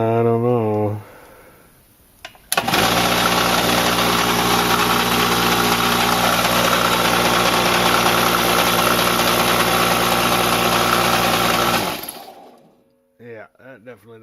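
A faulty Craftsman air compressor motor from 2002 roars loud and steady for about ten seconds, a rough, buzzing drone that cuts off abruptly, with a brief voice before and after.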